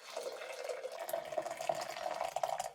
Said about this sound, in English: on top of it, I added 500 mils of hot water.